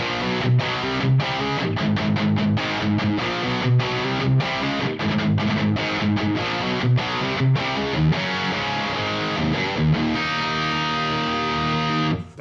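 A heavily distorted electric guitar played through a Neural DSP amp simulator plugin chugs out dense, loud palm-muted riffs with sharp rhythmic stops, ending on a sustained ringing chord.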